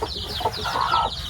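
Broiler chickens on a small farm give short, soft clucks and murmuring calls close by, a brief cluster of fowl sounds with no talking.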